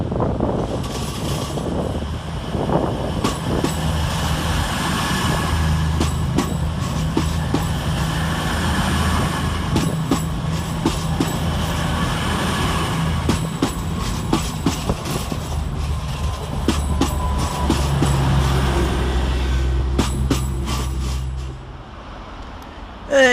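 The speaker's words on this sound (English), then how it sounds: "Next we see the departure of 222010, working 5 Charlie 40" Class 222 unit 222010 departing Sheffield railway station, a steady low diesel drone with rumbling throughout, loud and close, with wind buffeting; the engine note shifts near the end as it pulls away.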